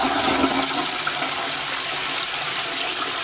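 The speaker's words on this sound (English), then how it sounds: "Right, we will flush the toilet" A toilet with a high-level cistern flushes in a loud, steady rush of water pouring into the bowl, close by and continuous throughout, with no talking.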